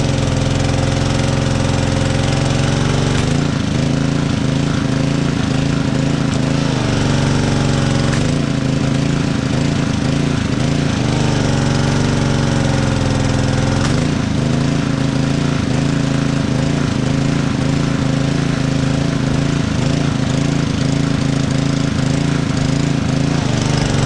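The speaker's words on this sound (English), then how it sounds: "start the engine." A petrol pressure washer engine runs loudly up close with a rough, knocking drone, its pitch surging and sagging in uneven cycles as it struggles to stay running.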